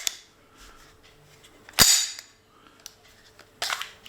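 A sharp blank-gun crack from a replica Sig Sauer SP 2022 pistol with polymer grip and metal slide rings out loud and close, followed by a quieter second report near the end over a hushed room.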